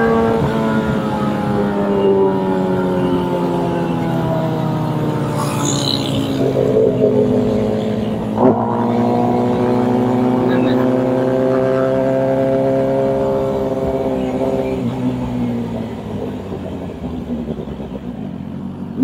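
Motorbikes ride fast along an empty road, with steady engine drone and harmonic whine rising and falling through gear changes, loud and continuous, plus brief clatter midway.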